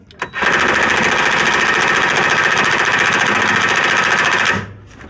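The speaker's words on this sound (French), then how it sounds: "vous pouvez me passer la clé à choc là? Ça ira plus vite." Pneumatic impact wrench hammering on car suspension parts during a driveshaft and ball joint repair, one loud continuous rattling burst of about four seconds in a workshop, then stopping abruptly.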